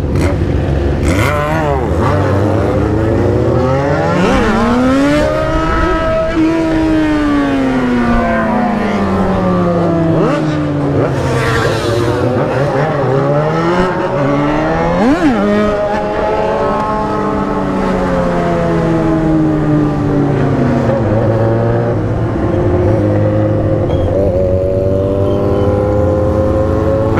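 Several motorcycle engines, including a BMW S1000, rev loudly and sweep past close by at a traffic light in São Paulo, pitches rising and falling in overlapping waves throughout, with a voice briefly audible beneath.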